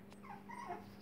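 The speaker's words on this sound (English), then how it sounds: "look at the puppies" Young puppies give soft, faint whimpers and whines in a quiet room, a couple of thin rising cries close by with no talking.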